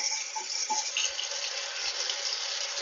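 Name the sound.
cold tap water running to rinse butter in mason jar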